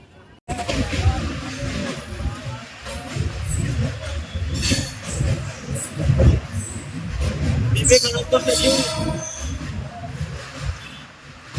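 A Sealdah to New Jalpaiguri passenger train rumbles steadily, heard from inside a general class coach, with clinks and brief wheel squeal over a loud, continuous roar. Voices murmur in the background.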